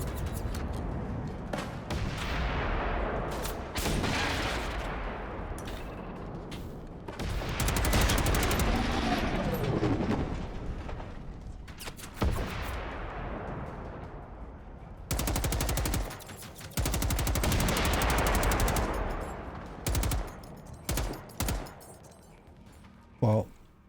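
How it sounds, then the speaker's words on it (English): Rocket fire and explosions in the robot-fighting shooter Generation Zero, loud repeated bursts and booming blasts rolling through the whole stretch with short gaps, a player's voice talking over the action. "Oh wow, the rocket went off twice."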